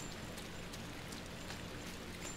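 Rain falls steadily in the video game INSIDE, a soft even hiss with faint scattered drops, quiet and continuous with no voices.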